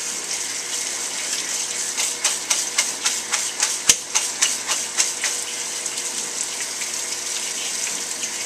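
Hot tap water runs steadily into a kitchen sink while something is rinsed under it during vegan chili preparation, with a series of rhythmic knocks and splashes partway through and no talking.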